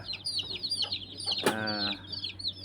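A backyard flock of hens clucking nearby, overlapping chirpy clucks with one sharper, louder call in the middle, over a low steady hum.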